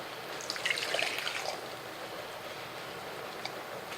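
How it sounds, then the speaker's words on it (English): Water runs steadily from a tap while parts are rinsed off after cleaning, a continuous close splashing hiss with small drips throughout, no voices. "So I get these rinsed off"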